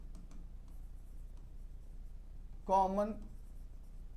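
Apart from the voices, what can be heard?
writing on a board or paper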